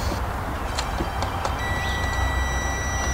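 A DIY solar Arduino automatic chicken coop door's limit switch gives off a steady electronic beep that starts partway through and holds to the end over a constant background hum.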